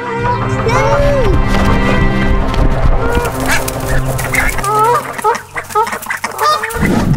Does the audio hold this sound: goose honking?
yes